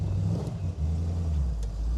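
A 1964 Chevrolet Corvette with an L79 327 engine drives along, a loud, close, deep engine drone that shifts pitch as it pulls, with a brief dip partway through.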